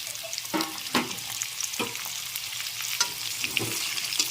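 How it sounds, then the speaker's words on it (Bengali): Chunks of taro, potato and radish fry in a hot pan for a Bengali spinach dish, giving a steady close sizzle broken by a few louder clatters of stirring. "কচু, আলু আর মূলো দিয়ে ভেজে নিচ্ছি সবজিগুলো।"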